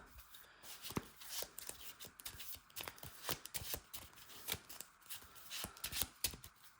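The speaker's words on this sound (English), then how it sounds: "Let's shuffle up and see what hand traps we get." A deck of trading cards is shuffled by hand for a Yu-Gi-Oh style game, giving rapid, crisp riffling and tapping bursts, close and fairly quiet.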